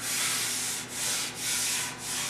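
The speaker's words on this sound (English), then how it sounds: "I'll rub that out with a little bit of 180, just real, I'll put it on a soft pad and just lightly scuff that stuff out of there." 180-grit paper on a soft pad lightly scuffing primer, close rhythmic rubbing in about four back-and-forth strokes, hissy and steady with no talk.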